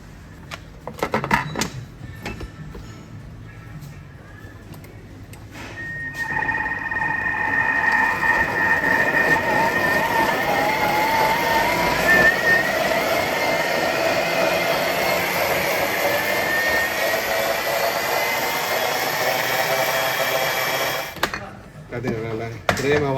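Electric blender grinding fresh tomato soup ingredients to a fine purée, a steady loud whirring drone that starts after a few seconds of kitchen talk and runs continuously for about fifteen seconds before stopping.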